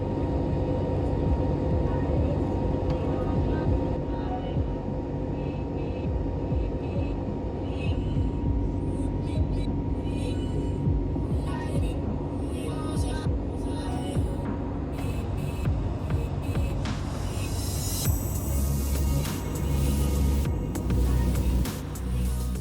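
Steady broadband roar of an Air Astana airliner cabin in flight, a constant low engine and airflow drone with a faint hum throughout and slight shifts near the end.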